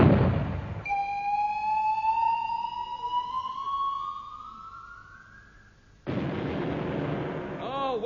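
A cannon-fire sound effect in a radio comedy gives a rising whistle that climbs slowly, then a sudden heavy boom with a rumbling tail, all loud and close.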